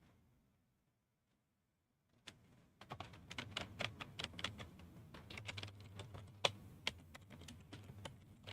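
Keys on a computer keyboard clatter in quick, uneven bursts after a near-silent opening, the clicks close and crisp over a low background hum.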